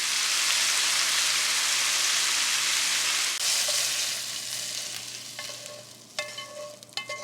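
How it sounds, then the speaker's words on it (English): A pound of sausage browns in a frying pan, giving off a loud, steady sizzle that fades a little toward the end, broken late by a few sharp utensil clinks and scrapes. "The first thing we need to do is just brown up our 1 pound of sausage"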